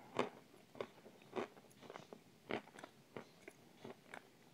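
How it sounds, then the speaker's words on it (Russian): Crunchy bits eaten together with cream give a series of about eight sharp, close crunching bites, spaced irregularly with quiet chewing between them. "В сочетании с этими хрустяшками."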